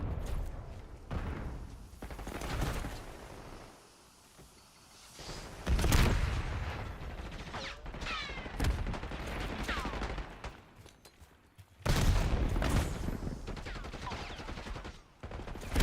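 Sniper fire and other gunshots ring out in an online shooter game, several loud bursts and reports spread across the stretch, with players talking and chattering over the action.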